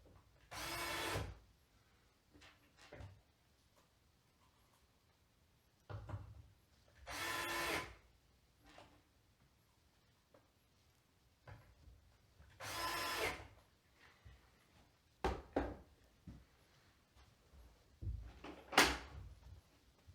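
Metal hinge parts knock and clunk as a door hinge is lined up and the hinge pin dropped in during a DIY door replacement, several separate bumps and thuds spaced across the stretch, close by with quiet gaps between.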